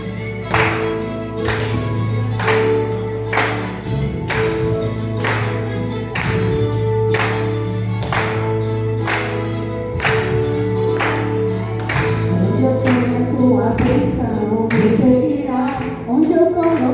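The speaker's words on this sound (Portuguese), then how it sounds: "E as palmas para o Senhor." A church congregation claps in a steady, rhythmic beat, roughly one clap per second, loud and sustained over background music and voices.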